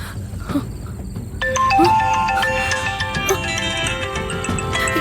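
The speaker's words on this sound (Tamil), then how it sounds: "என்ன பத்மநாபன் சார் நம்பர்ல இருந்து போன் வருது?" A mobile phone rings with an incoming call, a bright repeating melodic ringtone starting partway through over a low background rumble, fairly loud, no talk over it.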